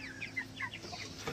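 Chickens on a poultry farm cluck in quick, soft, overlapping calls at a moderate distance, with steady farm background hum beneath.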